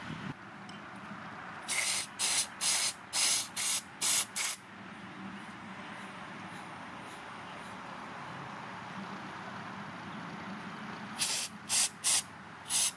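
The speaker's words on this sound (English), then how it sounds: "you need to wear eye protection when you spray it" Short bursts of aerosol carburetor cleaner sprayed on a Briggs and Stratton carburetor hiss in a quick series, about eight, then a quiet pause, then another cluster of four sprays near the end.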